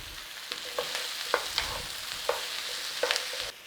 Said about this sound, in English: There's just a little bit of a stir fry on that. Keep turning it over a little bit.